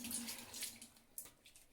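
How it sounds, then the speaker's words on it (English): Lukewarm tap water splashes onto a face at a bathroom sink, a few soft, close splashes over a steady running-faucet hiss, with no one talking. "Make sure I put water on my face first."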